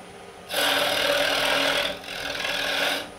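Wood lathe turning a wooden sphere with a Hunter carbide-tipped tool: a close, loud, steady rasping cut in two sustained passes, the second slightly quieter after a brief dip, with no talking.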